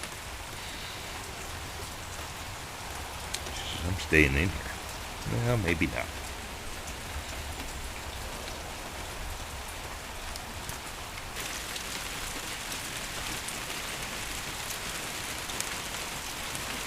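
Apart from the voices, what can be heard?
rain falling outside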